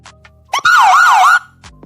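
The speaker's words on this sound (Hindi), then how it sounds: "सायरन बज रहा है" A loud electronic siren wails up and down in about two quick sweeps, heard briefly and on its own.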